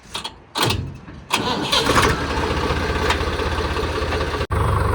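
A tractor engine cranks in short bursts, then catches and roars into a loud, steady diesel idle with a brief cut near the end.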